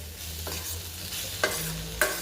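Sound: spices and onion frying with ivy gourd

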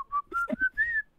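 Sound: whistle in a song

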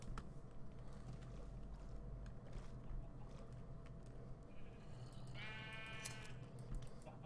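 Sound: sheep bleating in a video game

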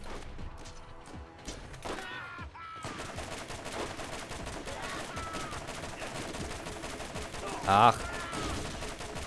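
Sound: gunfire in the video game Borderlands

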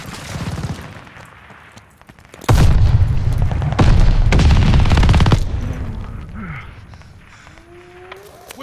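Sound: grenade explosion in the video game Call of Duty Vanguard

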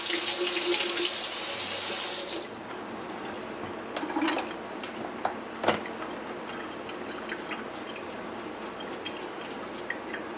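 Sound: water running while washing Singer 306 motor with soap

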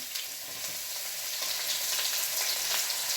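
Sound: chopped ginger and garlic frying in hot oil

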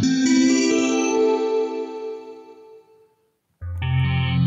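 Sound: wavetable synth patch on the CUBE Synth iPad app

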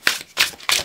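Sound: shuffling tarot cards

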